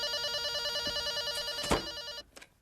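A telephone rings in a French film scene, a close, bright trilling bell that sounds steadily, cut off by a handset pickup clatter near the end.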